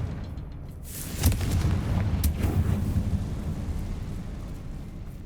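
Confringo fire spell from Hogwarts Legacy bursting with a sharp blast near 1.3 seconds, a second crack near 2.2 seconds, then a sustained rumbling low roar of explosion and debris.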